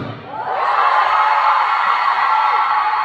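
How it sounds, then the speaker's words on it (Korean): A crowd of fans at a birthday party event screams and cheers in a dense, high-pitched roar. The sound swells after a brief dip and stays loud and sustained throughout. "웨이 웨이 함성 소리 질러."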